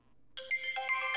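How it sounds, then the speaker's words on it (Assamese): A mobile phone ringtone starts abruptly after a brief silence and plays a bright, repeating electronic melody, clear and close, with no one talking over it. "ফোন আহিছে"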